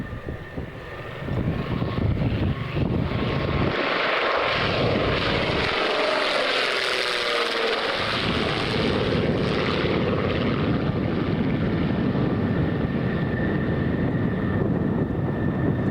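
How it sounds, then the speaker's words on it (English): An aircraft comes in to land, a loud, sustained engine roar with propeller drone that swells and holds steady throughout, close and dominant. "I think this is the last aircraft to come into land."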